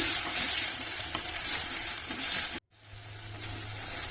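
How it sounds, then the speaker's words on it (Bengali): Tomatoes being stirred as they fry in a pan for prawn curry make a loud, dense sizzle that cuts off abruptly, then returns as a softer, steadier frying hiss. "টমেটো অ্যাড করার পরে ভালোভাবে নেড়ে দিচ্ছি"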